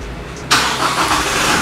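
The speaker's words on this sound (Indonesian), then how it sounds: "Terus kita nyalakan engine start stopnya nih. Sudah menggunakan engine start stop, kita dengarkan ciri khas mesin turbo dieselnya." A Toyota Kijang Innova 2.4 turbo diesel fires up with a push-button start, a sharp catch after a short quiet pause that settles straight into a steady, close, loud diesel idle.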